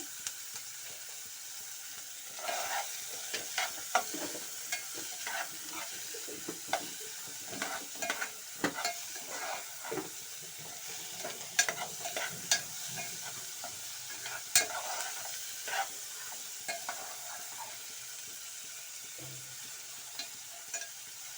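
Mixed vegetables for upma cook in a hot pan with a steady, quiet sizzle and frequent scraping stirs that come and go throughout.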